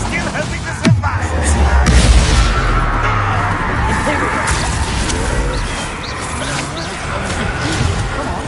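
A Confringo blasting curse is cast in a Harry Potter video game. A sharp whip-like crack is followed by a booming blast that rumbles and fades, with a voice speaking over the effects.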